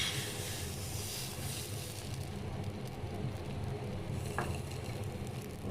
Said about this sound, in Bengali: এখন এতে আমি আবার একটা পিঠার গোলা দিয়ে দিচ্ছি